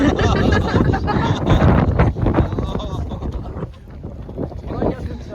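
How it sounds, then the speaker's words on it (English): Strong gusting wind in Cappadocia buffets the microphone throughout, with a roaring rumble that eases slightly near the end. "so windy"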